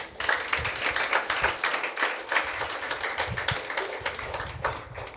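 An audience claps during a Good Friday sermon in a church, a dense steady patter of many hands at moderate distance, continuous with slight swells and no voices over it.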